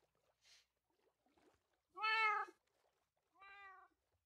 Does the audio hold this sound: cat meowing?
yes